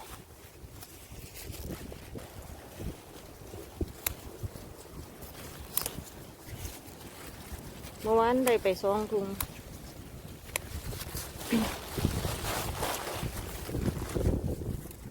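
Wind gusting outdoors during a vegetable harvest, buffeting the microphone in rough bursts, while a person talks over it.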